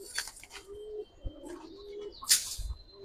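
Giribaz pigeons, a pair of orange Chila birds, giving soft low coos with a few brief chirps and a wing rustle, close and quiet, without talk.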